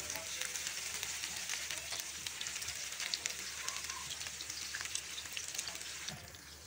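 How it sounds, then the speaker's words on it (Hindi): Minced-meat patties fry in a small amount of oil in a large pan, giving a steady, moderate crackling sizzle throughout with faint low background noise. "बड़े फ्राई पैन में टिकिया बना रही हूँ और ये कम ऑयल में फ्राई होती हैं"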